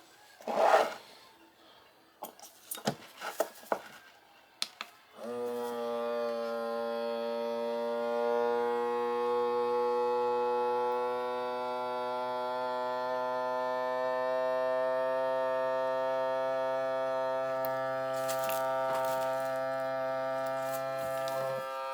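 A vacuum sealer pump drones steadily for about seventeen seconds during its sealing countdown, a loud continuous hum with a rich harmonic whine, preceded by a few brief clicks and handling knocks.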